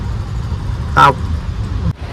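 A vehicle passes close by on a village road, a short loud swell of engine and tyre noise rising over steady background rumble before fading away.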